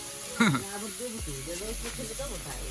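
Potatoes dropped into the hot oil left from frying katla fish give off a steady, soft sizzling hiss throughout, while a person talks over it.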